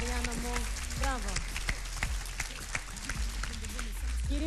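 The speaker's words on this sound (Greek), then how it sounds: "Παιδιά, ένα χειροκρότημα γι' αυτό" Dense audience applause at a live ice-dancing TV show, a steady crackling wash of clapping heard under voices throughout.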